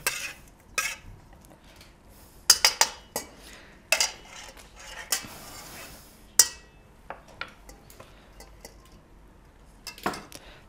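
A spoon clinks and scrapes against a dish while mixing olive oil and vinegars for a pig's trotter carpaccio, irregular sharp taps and clatters separated by quiet gaps, no voices.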